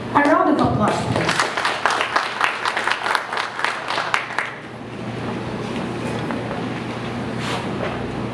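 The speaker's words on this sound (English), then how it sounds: "A round of applause, please" An audience claps at a ceremonial event on higher education programs at Davao City Jail, a dense burst of applause that starts loud and gradually thins into scattered claps and room noise.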